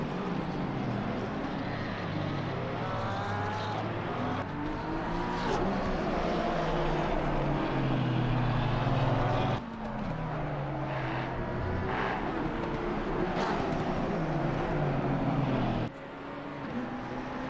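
Race car engines roaring around the Nürburgring in a racing video game during a qualifying session, a continuous high-revving drone with pitch sweeps as cars shift and pass, steady and loud throughout with a brief dip near the end.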